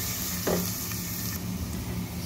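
Garlic sautéing in hot cooking oil crackles in a steady, close sizzle, with one sharper burst of spatter early on as it settles.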